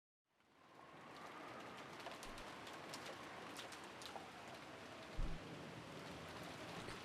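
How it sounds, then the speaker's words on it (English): Steady rain from the visual novel Umineko no Naku Koro ni fades in and then holds as a dense, even patter, with scattered drip ticks and one low thump near the end, no voices. "The wind and rain had neither weakened nor strengthened"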